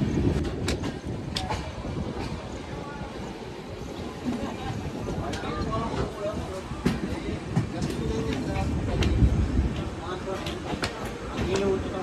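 A monsoon-season rail journey aboard an Indian express train: steady rumble of the moving carriages with rhythmic wheel clatter on the track, heard from inside, continuous throughout with faint background chatter.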